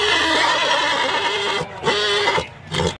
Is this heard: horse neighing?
yes